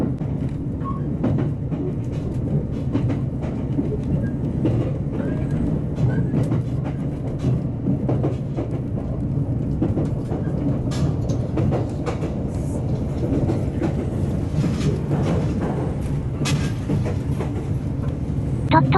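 A diesel railcar on the San'in Main Line in Japan rumbles along steadily, a loud continuous engine and track drone with faint rhythmic clatter throughout.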